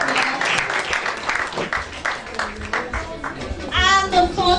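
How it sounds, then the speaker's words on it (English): Applause from an audience at a scholars' summit award ceremony, a steady patter of clapping across the whole stretch with some voices mixed in and a brief musical or cheering swell near the end. "Please just give her a round of applause"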